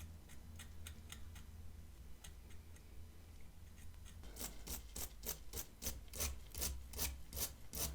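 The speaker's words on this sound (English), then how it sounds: "Now I'm going to try scraping very carefully with this dental pick." A dental pick scrapes over the plastic shell of a smoke-damaged Game Boy in quick, rhythmic strokes, faint at first and then louder and faster, with no talking.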